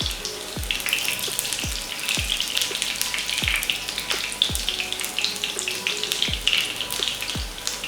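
Parwal (pointed gourd) pieces frying in oil in a pan just after being turned over, giving a steady soft sizzle punctuated by regular low thumps every second or so.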